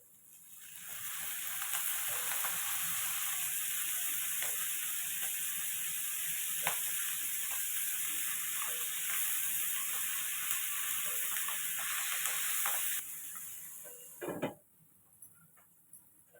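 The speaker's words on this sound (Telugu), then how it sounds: "మనకు ఆల్మోస్ట్ ఆనియన్స్ ఫ్రై అయిపోయాయి చూడండి" Onions sizzle steadily in hot oil in a tempering pan, a broad frying hiss running for about thirteen seconds before it drops away sharply, with a faint clatter at the end.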